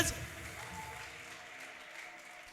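A church congregation at a prophet's sermon breaks into a burst of applause, a broad wash of clapping that peaks at the start and then settles into a steady, moderate patter.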